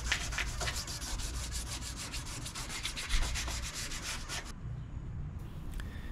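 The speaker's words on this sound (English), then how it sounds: "I sanded the maple to a 400 grit finish." Rhythmic back-and-forth sanding strokes rasping on maple wood, fast and even, stopping near the end.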